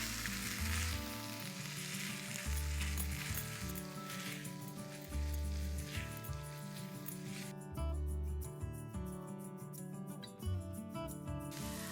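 Chicken is stir-fried in a pan with chili sauce, soy sauce and salt, making a steady sizzle under background music.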